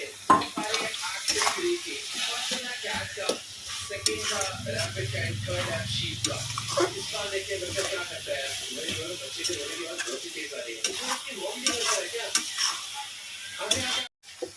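A sticky coconut and jaggery mixture stirred in a pan, with soft scraping, light sizzle and occasional utensil knocks, close by, with a voice talking over it.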